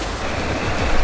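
Green Ant Falls in Litchfield National Park pours as a loud, steady rush of falling water, dense and continuous with some wind noise.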